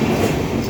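A brand-new passenger train in India heard from inside a carriage, a loud, steady rumbling roll with rattling wheel noise through the whole brief moment, no voices.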